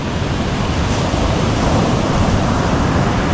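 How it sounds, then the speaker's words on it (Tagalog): Big ocean waves crash and roar in a loud, continuous wash of surf mixed with wind buffeting the microphone, with no voices. "Grabe, lalaki ng kanilang nilusot na alon"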